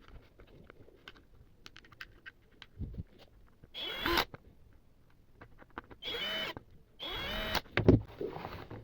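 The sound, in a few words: closing up an electric kettle base after repair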